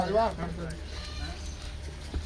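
A goat bleats at a livestock market, one short wavering cry close by at the start, followed by market chatter and background noise.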